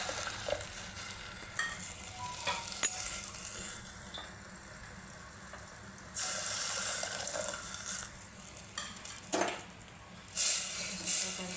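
Water poured into a pan of sizzling spring onion greens for a curry, giving a hissing sizzle and bubbling burst with stirring scrapes around it, close and fairly loud.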